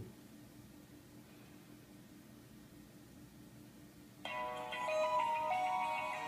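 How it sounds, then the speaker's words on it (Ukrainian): A mobile phone, an iPhone 5s, rings inside a pocket. A bright, slightly muffled ringtone starts partway through after a stretch of quiet room hiss and then keeps going steadily. "Зараз зазвонить мій телефон в кишені, щоб ви чули."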